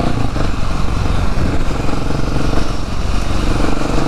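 A KTM 690 SMC-R supermoto motorcycle ridden on Italian roads gives off a loud, steady single-cylinder engine drone with wind rush and no pauses.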